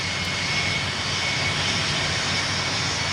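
Airplane engine noise in the Tower Simulator 3 game, a steady, loud broadband roar with a faint high whine, continuous with no voices.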